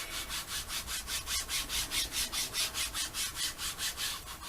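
Ink being rubbed across an embossed wood-grain card for a Christmas wreath card, making a steady, quick back-and-forth scraping with evenly spaced strokes that continue at a constant pace, close up and alone.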